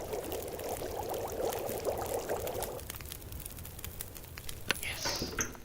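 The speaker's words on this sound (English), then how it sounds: "Oh, we got tons of water now." Water pours and trickles in a steady wash during water collection in The Long Dark survival game, fading after a few seconds into quieter ambience with faint clicks and a brief chirp.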